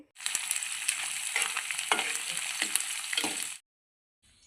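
Onions fry in a pan with a bright, steady sizzle and occasional stirring scrapes, close and fairly loud, then the sound cuts off abruptly near the end.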